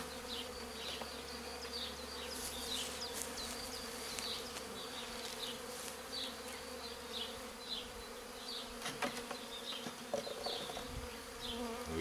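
A swarm of honey bees buzzes steadily around a hive on the ground, a dense close humming with individual bees zipping past and faint handling noises, no talking.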